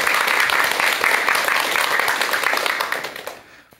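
Steady audience applause welcoming a lecturer before a talk on old age, a dense even clatter of many hands that holds for about three seconds and then tapers off into quiet.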